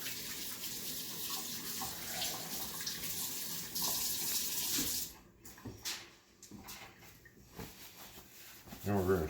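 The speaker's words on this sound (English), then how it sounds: "Let me rinse my hand real quick." A kitchen faucet runs as a hand is rinsed under it while pulled pork is prepared: a loud, continuous rush of water for about five seconds, then the flow cuts off, leaving scattered soft handling noises.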